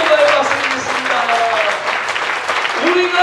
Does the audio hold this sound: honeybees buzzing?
no